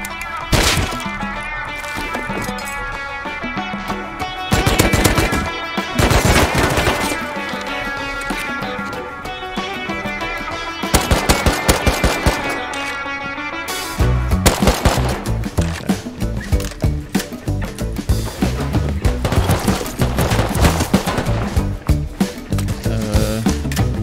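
Thompson submachine gun firing in the survival game Rust, rapid automatic bursts in several sharp volleys, loud and close, with brief gaps between strings of shots and a long sustained burst near the end.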